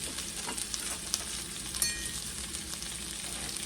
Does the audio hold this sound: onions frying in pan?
yes